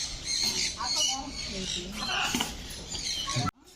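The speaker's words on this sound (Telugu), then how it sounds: "వీటిని మకావ్ బర్డ్స్ అంటారు." Macaw parrots squawk at Nisargadhama island park in Karnataka. Loud, harsh squawks repeat close by over a busy background of other noise, then cut off suddenly.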